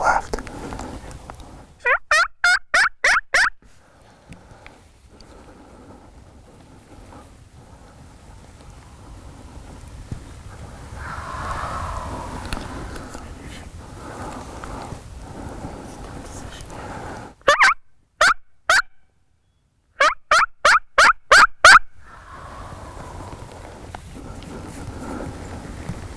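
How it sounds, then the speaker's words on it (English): Wild turkeys gobble during a Massachusetts spring turkey hunt, rapid rattling bursts repeated in several groups against a quiet outdoor background, with soft nearby talk in between. "They're still gobbling."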